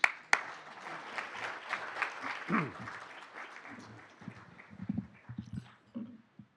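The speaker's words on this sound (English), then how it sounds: "Why don't we give a round of applause for all of you?" Awards ceremony audience clapping, scattered and uneven, with a few sharp nearby claps and some murmuring voices as the applause thins out toward the end.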